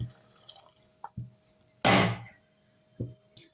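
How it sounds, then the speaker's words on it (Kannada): Water is poured into a freshly rinsed mixer grinder jar: a few small drips and taps, then one short, loud splashing pour, followed by a couple of soft knocks. "ಮಿಕ್ಸಿ ಸರ್ ತೊಳೆದ್ಬಿಟ್ಟು ಸ್ವಲ್ಪ ನೀರು ಹಾಕ್ಕೊಳ್ತಾ ಇದ್ದೀನಿ"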